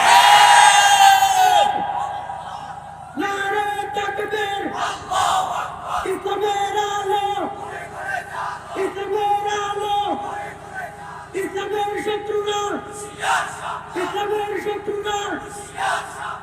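A large crowd answers a takbir call at an Islamic sermon, shouting "Allahu Akbar" in loud, repeated unison chants after a single voice's call, several rounds of rising and falling cries.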